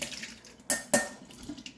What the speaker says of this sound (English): I'm going to drain and rinse these.